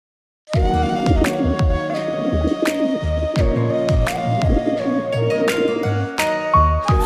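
Pet pigeons that flew back to their owner in a flood-hit area coo in a steady stream of soft, rhythmic calls, close and fairly loud, with no talking.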